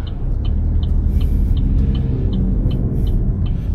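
A car pulls away during a Korean road driving test at the Dobong licence test centre, its steady low engine rumble continuous and close, with faint periodic ticking of an indicator above it.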